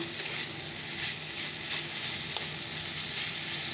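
Saag greens frying in a pan with onion, garlic and green chilli, a steady close sizzle and crackle with faint stirring, continuous and alone without talk.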